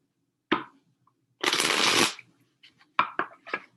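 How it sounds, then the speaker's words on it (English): Tarot cards are shuffled close by: a quick flick, a longer riffling burst, then several short taps and snaps as the deck is squared. "I'm going to do one more shuffle"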